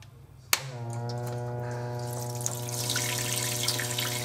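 A pump in a DIY electric all-in-one brewing system clicks on, then runs with a steady electric hum. Wort recirculates through a sparge ring above it, and a splashing, trickling wash of liquid builds and stays close and continuous.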